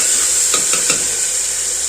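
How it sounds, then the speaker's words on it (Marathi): A few quick scraping stirs of chickpeas with oil, turmeric and salt in a metal pressure cooker, three soft strokes over a steady background hiss. "मिक्स करायचं"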